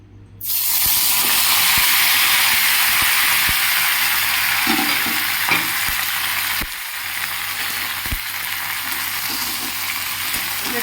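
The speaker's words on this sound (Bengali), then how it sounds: "এই তেলের মধ্যে পুরো বেগুনটা আমি দিয়ে দেবো" A whole eggplant drops into hot oil and starts frying with a sudden loud, steady hiss and sizzle, close and continuous, with faint clicks and a slight drop in intensity partway through.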